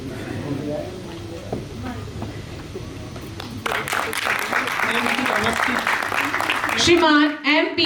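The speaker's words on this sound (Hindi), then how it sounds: "कंटिन्यू तालियां होती रहें जी।" Sustained applause from an audience at a swearing-in ceremony in Rajasthan, swelling after a few seconds into a steady wash of clapping while someone speaks over it on a microphone.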